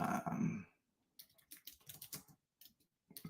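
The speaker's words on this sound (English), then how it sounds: "I'm typing it out so I can put it in the chat" Typing on a computer keyboard, a run of quick, uneven clicks and taps in short bursts with pauses between them, close and fairly quiet, after a brief low murmur at the start.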